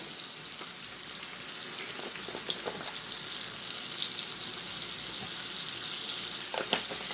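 Ground meat for sloppy joes sizzles steadily in a hot pan, a continuous crackling fry with occasional small pops and scraping, close and even throughout with no talking.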